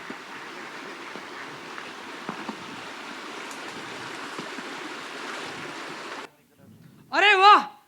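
A river flowing as a sound effect in a stage play about the Buddha: a steady, broad watery rush runs for about six seconds, then cuts off abruptly, followed by a short burst of a different louder sound.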